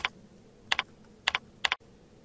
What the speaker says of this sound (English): Type the name of your new folder.